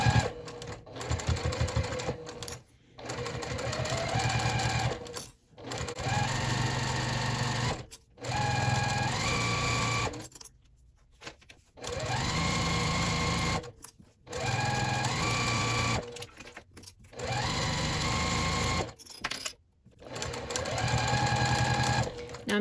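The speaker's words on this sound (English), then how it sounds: "I'm going to go ahead and sew that top stitch at 1/8 of an inch seam allowance" A sewing machine runs a top stitch along a lanyard at a one-eighth-inch seam allowance, steady close whirring bursts of rapid needle clatter broken by short pauses as the fabric is repositioned, with no talk.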